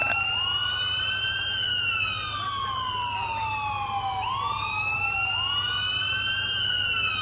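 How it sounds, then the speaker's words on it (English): An ambulance siren in the game GTA IV with the LCPD:FR police mod wails up and down in long, loud sweeping cycles over a steady low engine hum, with no voices. "here's the ambulance."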